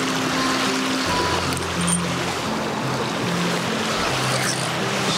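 A river flows in Japan, giving off a steady, even rush of water that stays constant throughout, with a faint low hum in the background and no voices.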